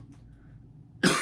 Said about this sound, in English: Keep coughing, this is not good.